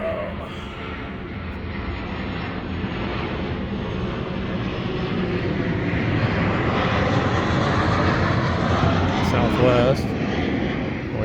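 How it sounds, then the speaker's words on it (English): A Southwest airliner passes overhead near a home workshop, a broad steady engine roar that swells gradually and stays loud throughout, with a voice talking over it. "Airplane coming by."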